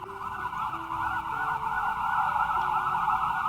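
Wailing emergency sirens sweep steadily through a continuous tone with faint lower traffic rumble underneath, heard alone without voices.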